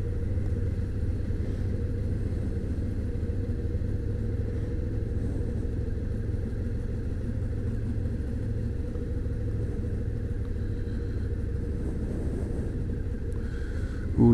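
Steady low rumble of a car on the road, driving too close behind a Toyota during a driving lesson, a continuous engine and road drone with wind buffeting the microphone throughout.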